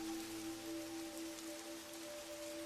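Gentle rain pours down in a constant, even hiss, close and unbroken for the whole stretch, with no one speaking.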